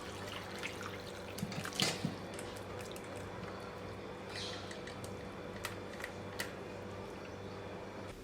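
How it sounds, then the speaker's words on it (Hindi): Chhena whey drains through a clean cotton cloth set in a large sieve over a big pot, producing a soft, continuous trickling and splashing with a few louder drips and bumps, quiet and close. "अब हम छेने को छान लेते हैं।"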